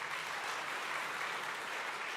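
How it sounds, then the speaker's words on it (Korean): A church congregation at a year-end worship service breaks into steady, dense applause, a continuous wash of many hands clapping at once with no voices over it. "큰 박수로 격려 부탁드리겠습니다."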